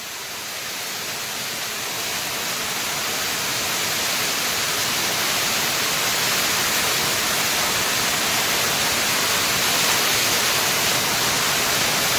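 Water crashes continuously down a waterfall among slick wet stones in the forest, a thick unbroken hiss and rumble that builds a little at first and then stays loud and near.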